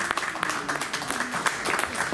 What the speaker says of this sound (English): A big round of applause for Steve.